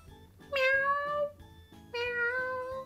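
A cartoon cat meows twice, two clear drawn-out mews a moment apart, heard over a soft rhythmic musical backing with no talk.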